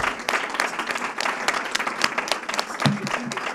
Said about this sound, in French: Alors, on peut l'applaudir, elle est là.